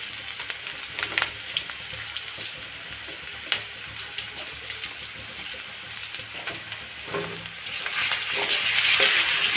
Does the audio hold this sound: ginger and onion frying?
yes